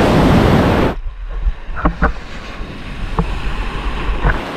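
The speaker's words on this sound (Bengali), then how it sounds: "বেশ বড় বড় ঢেউ" Big ocean waves at Radhanagar beach in the Andaman Islands open with a loud roar of breaking surf and wind, then drop to a softer, steady wash of water with faint distant sounds.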